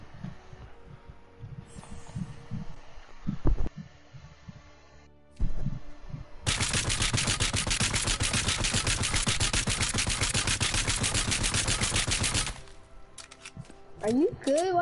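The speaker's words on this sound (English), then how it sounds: "Why do you keep shooting?" Rapid automatic gunfire in Fortnite Save the World, a long continuous burst of several seconds, preceded by a few isolated shots and game sounds, loud and close.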